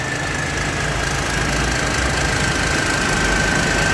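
A golden Thai Seng Yont 4.0 combine harvester engine runs inside a factory, a loud, constant rumbling drone with a faint steady whine and no pauses.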